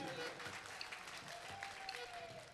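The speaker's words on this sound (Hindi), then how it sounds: "भाई एक पे ताली और बजा दीजिए शरद जी के लिए" An audience at a stage event claps in a steady, fairly soft wash of many hands while a voice talks over the applause.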